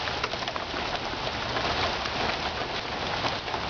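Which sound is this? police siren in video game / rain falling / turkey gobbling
rain falling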